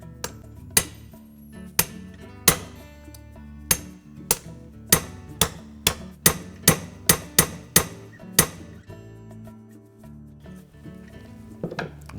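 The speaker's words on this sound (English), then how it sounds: "and our ball peen hammer, we're going to tap that pin out." A ball peen hammer strikes a 5/32 punch to drive a pin from a shaft in a Whirlpool stand mixer, giving about fifteen sharp metallic taps at irregular intervals, close and loud with no talk.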